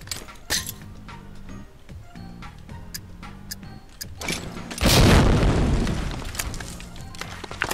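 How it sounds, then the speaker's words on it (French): A grenade explodes in the World War II shooter Medal of Honor Allied Assault Breakthrough, a loud booming blast partway through that follows a stretch of sharp metallic clinks and ticks and then rumbles on. "On envoie des grenades."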